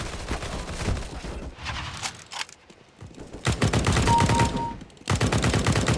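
Rapid automatic gunfire in Counter-Strike: Global Offensive, loud, close bursts of chattering shots broken by short pauses, with one brief lull midway before the firing resumes.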